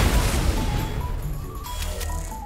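An explosion in Fortnite, a broad booming blast with rumbling low-end debris that stays loud and fades slowly over a couple of seconds, with no talk over it.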